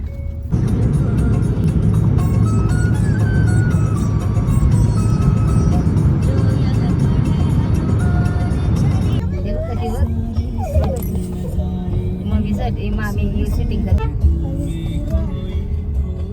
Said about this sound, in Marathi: घाटावर ट्रॅफिक लागली ट्रॅफिक